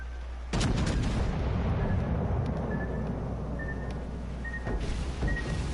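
Torpedo explosions in a PS4 video game: a sudden heavy boom followed by a long rumbling roar, then a second deep blast near the end, with faint tones and sporadic pops over the rumble.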